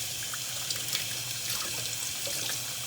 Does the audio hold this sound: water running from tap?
yes